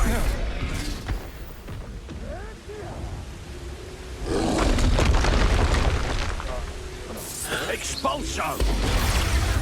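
Booming blast of the Expulso spell in Hogwarts Legacy erupts loudly after a shouted voice, with a sustained roaring rumble that swells from about four seconds on, layered with game effects and yelling.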